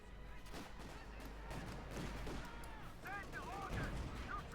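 Battle gunfire from the strategy game Company of Heroes 2, with anti-tank and 6-pounder gun combat against Panzer armour: a steady mix of shots and explosions runs throughout, with faint talk in places.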